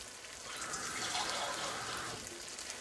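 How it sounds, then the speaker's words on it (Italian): Water is poured into a simmering fish soup for spaghetti with gurnard and cuttlefish, a faint, steady splashing trickle that swells slightly and then continues without talk. "mettiamo anche un altro pochettino d'acqua"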